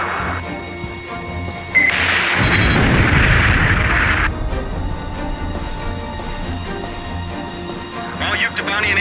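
A direct-hit explosion in the Ace Combat 5 video game, a loud booming crash that bursts in suddenly and roars for a couple of seconds before easing into a lingering rumble of ongoing battle noise.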